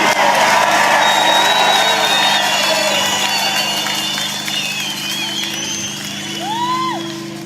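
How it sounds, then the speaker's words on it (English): A protest crowd outdoors claps, cheers and whoops in a broad wash of sound, with scattered shouts and whistles rising over steady noise. "So give yourselves a round of applause for being here today"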